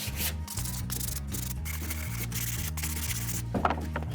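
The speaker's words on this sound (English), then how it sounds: "I will just quickly sand the edges with a bit of sandpaper to neaten it up." Sandpaper rubs steadily along the edges of a wooden cup holder in a kids' craft project, a continuous close scratchy rasp with short strokes and no talking.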